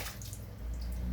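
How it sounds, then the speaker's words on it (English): Soaked dried corn kernels are washed in a bowl of water, giving a quiet sloshing and trickling with faint drips, close but soft and continuous. "So now we are going to wash the corn."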